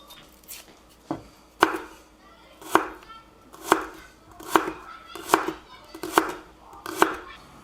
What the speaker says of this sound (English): let's quickly take care of the shallots. So all you want to do, basically, you want to peel them, and then we're going to cut them into little cubes.